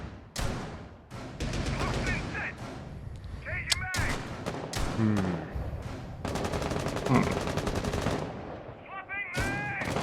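Rapid shotgun and gunfire bursts from a competitive video game match ring out in dense, loud volleys through most of the stretch, with brief pauses and a commentator's voice running beneath.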